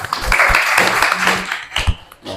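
A classroom of students claps briefly together, a short burst of scattered applause with a few sharp hand taps trailing off near the end.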